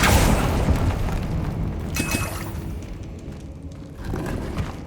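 A Confringo explosive fire spell cast in the video game Hogwarts Legacy, a loud boom at the start fading into rumbling debris, followed by faint magical chimes and softer clatter.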